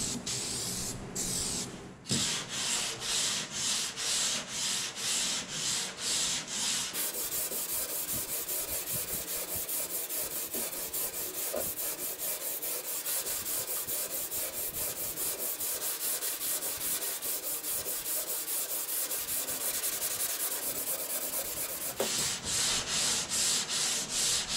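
Bondo body filler is sanded over guide coat on a car panel, a close, steady rasping scrub that runs in rhythmic strokes, faster at the start and end and smoother through the middle.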